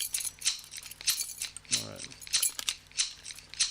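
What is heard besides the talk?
scissors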